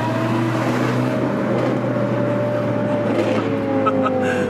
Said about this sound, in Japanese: 合わせて3万ドルのエグゾーストを聞きに来たんだろうね